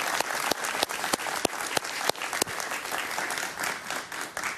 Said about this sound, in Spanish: Un aplauso para Luis, por favor.